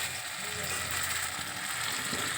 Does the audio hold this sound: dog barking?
no